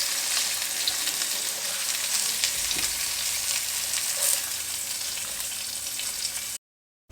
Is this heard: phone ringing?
no